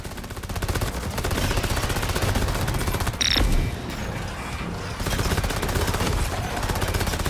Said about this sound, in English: The bullets that turn into bombs are actually insane.